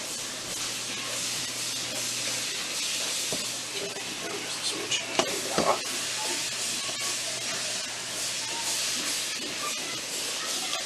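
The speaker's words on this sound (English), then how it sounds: "2 tablespoons of butter and cook until browned" Two tablespoons of butter melt and brown in a pan, giving a steady bubbling sizzle and hiss with a few louder spits and light clinks partway through.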